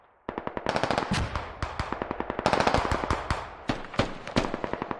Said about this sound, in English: I need you to light it up with an MG if you're able